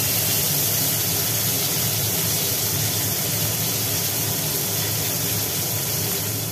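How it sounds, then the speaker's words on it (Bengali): Bitter gourd cut into long strips frying in hot oil, a steady, dense sizzle and hiss that holds evenly from start to finish with no talking. "তেল গরম হওয়ার পরে তেলের মধ্যে দিয়ে দেওয়া হলো উচ্ছে"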